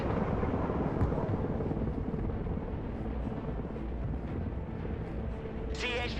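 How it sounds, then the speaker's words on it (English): A CH-53 heavy-lift helicopter in the war game Broken Arrow gives off a steady, heavy rotor rumble throughout, mixed with battlefield noise, and a brief high burst comes near the end. "CH-53 heavy lift helicopter here."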